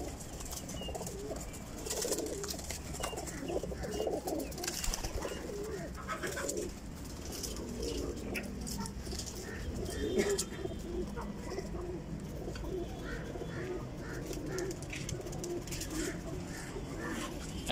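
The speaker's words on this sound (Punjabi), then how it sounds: "ਸਲੇਟਾ ਕਬੂਤਰ ਚੈੱਕ ਕਰੋ" A grey pigeon, a pure game flying and breeder bird offered for sale, coos repeatedly at close range amid a busy outdoor backdrop of other birds and faint wing flutters.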